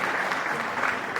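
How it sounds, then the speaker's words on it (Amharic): Audience applause rings out at a New Year gathering in Sweden, a dense, steady wash of many hands clapping at close range with no pauses. "አጨብጭቡላት"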